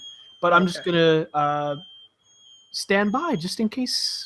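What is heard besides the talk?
fire alarm going off, probably set off by the oven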